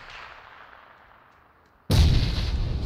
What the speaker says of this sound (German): Oh, auf mich wurde geschossen.